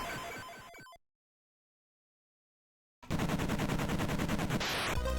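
Retro video game Esper Dream combat: a burst of rapid shots cuts off into a couple of seconds of silence, then dense, loud machine-gun-like fire and explosions resume and continue to the end.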